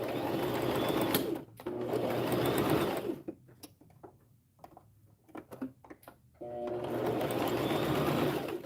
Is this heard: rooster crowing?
no